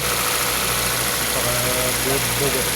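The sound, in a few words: Toyota Vios single VVT-i engine idling after wiring fix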